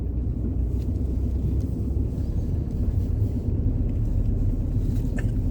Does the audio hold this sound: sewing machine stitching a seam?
no